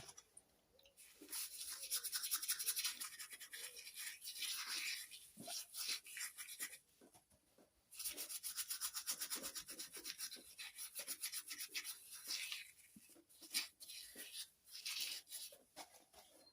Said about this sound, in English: Let's clean this off, see if there's any marks on there.